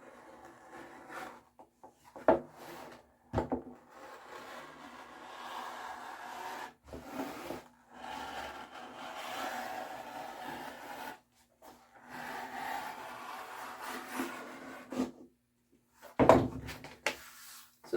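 A strap cutter set to 3 inches slices a long leather edging strip for a shield cover, giving a quiet, continuous rubbing rasp with brief louder scrapes and knocks between passes.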